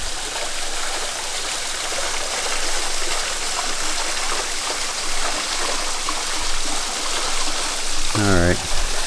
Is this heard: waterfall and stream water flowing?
yes